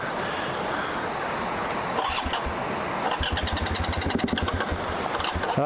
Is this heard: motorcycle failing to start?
yes